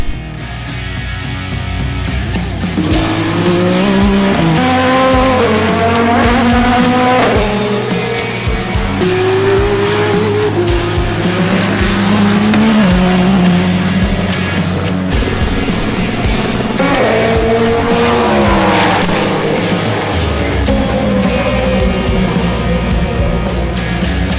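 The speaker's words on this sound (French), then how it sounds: "On entend déjà les voitures au loin en train de rouler." Race cars lapping during practice at the 24 Hours of Le Mans: loud engines whose pitch climbs and falls through gear changes, several cars passing in succession, with no talking.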